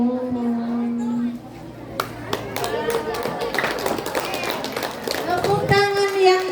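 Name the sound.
audience applause at school dance performance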